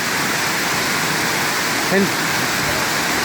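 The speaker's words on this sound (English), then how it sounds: "Thousands of gallons of water pouring over there." A waterfall pours thousands of gallons over mossy rocks, making a loud, steady roar that fills the whole moment, with a single short spoken word rising briefly over it.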